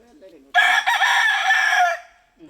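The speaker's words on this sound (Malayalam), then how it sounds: "രണ്ട് വൈറ്റ് ലഗോൺ പൂവൻ കോഴികൾ വീടിന്റെ മുൻവശത്ത് പകൽ സമയത്ത് ജാഗരൂപരാണ്" A loud White Leghorn rooster crow close by in front of a house in daytime, one long drawn-out call lasting over a second, with quiet surroundings before and after.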